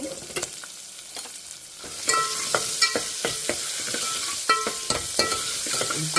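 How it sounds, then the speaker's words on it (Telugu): Thick-cut onions and green chilies drop into hot oil in a pot for a sweet potato pulusu, setting off a sudden bright sizzle that holds steady, broken by sharp scraping stirs at irregular intervals, with no talking. "ఇప్పుడు ఉల్లిగడ్డ పచ్చిమిర్చి వేసుకోవాలి"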